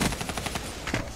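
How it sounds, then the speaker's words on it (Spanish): Rapid automatic gunfire from Black Ops 3, a burst of loud, close shots in quick succession with a final pair of heavier blasts near the end. "es que le estaba disparando a las chingaderas esas"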